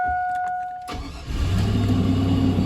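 A truck engine, an LS Vortec swap not run in months, cranks briefly, then catches and settles into a steady rumbling idle, close by and loud.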